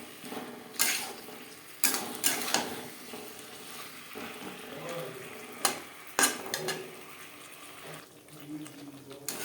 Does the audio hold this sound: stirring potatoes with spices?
yes